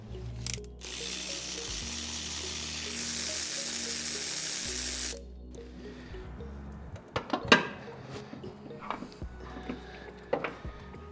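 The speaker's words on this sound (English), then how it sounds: "Then we're gonna have to take the bottom bolt from the hydraulic tensioner" A ratchet works the bottom bolt of the hydraulic tensioner on a 2018 Honda Accord 1.5L turbo, a long rapid clicking whir followed by irregular close metallic clicks and clanks.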